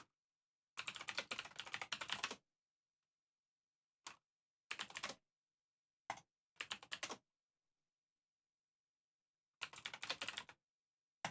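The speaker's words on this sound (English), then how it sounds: "Let me type." Someone types on a computer keyboard in quick, quiet bursts of clicking keys. A longer run of typing is followed by several short taps and another burst, with silence in between and no talking.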